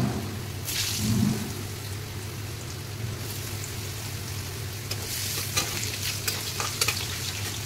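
Cut potatoes frying in hot oil with panch phoron, a steady close sizzle throughout with occasional stirring scrapes and small crackles, no voices.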